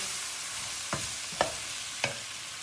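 Turmeric being stirred into a dish in a home kitchen: three separate, sharp spoon-against-pot scrapes about half a second apart, close and clear over a quiet background, with no talking.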